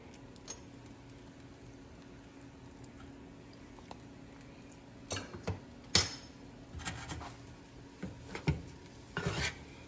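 Hot water cornbread batter with sugar and butter is stirred in a bowl: a quiet stretch, then scattered spoon scrapes and light clinks against the dish in the second half.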